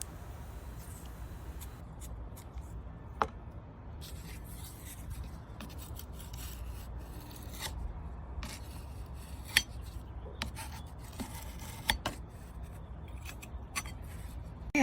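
Sandpaper rubbing over a painted wooden rocking chair, a continuous soft rasping scrape with scattered sharper ticks and clicks, close and steady throughout with no voices.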